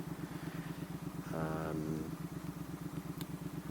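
Triumph Thruxton R motorcycle fitted with a DCAT X-pipe and aftermarket slip-on silencers, engine pulsing steadily throughout, with a brief louder surge of exhaust overrun crackle near the middle.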